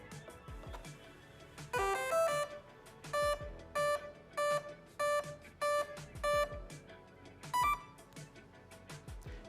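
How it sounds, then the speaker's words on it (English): Six short electronic beeps from boat electronics at power-up, in an even, steady rhythm, preceded by a brief rising tone sequence and followed by a final higher tone, heard up close. "press the power button and listen for the beeps"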